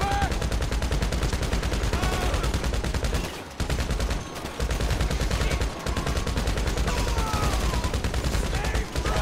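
Sustained drone gunfire in a multiplayer shooter video game, a dense, rapid rattle of automatic shots running almost continuously with two brief pauses, loud and up close.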